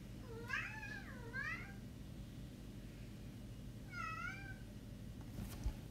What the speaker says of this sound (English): That's my cat, ignore that.